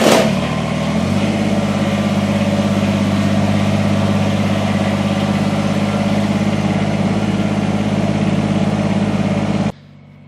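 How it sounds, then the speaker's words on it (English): A Kubota BX compact tractor engine starts and then idles steadily nearby with an even diesel rumble for about nine seconds before cutting off abruptly. "Then if everything's good, you're ready to start the tractor."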